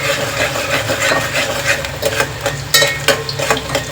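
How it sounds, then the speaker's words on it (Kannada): Chana dal vada mixture stirred and fried in a pan, with scraping and rubbing strokes, light sizzling and occasional sharp clinks of the utensil against the pan, close and continuous. "ಇದು ಕರೆಕ್ಟಾಗಿ ಕಲರ್ ಚೇಂಜ್ ಆಗೋವರೆಗೂ ಫ್ರೈ ಮಾಡ್ಕೋಬೇಕು"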